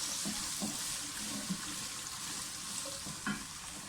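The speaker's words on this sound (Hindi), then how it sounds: "मैं सब्जियां जो है वो थोड़ी सी फ्राई करके निकाल लूँगी" Carrots and mixed vegetables for a dhaba-style dish fry in a pan, giving a steady broadband sizzle with a few soft stirring knocks and no voices.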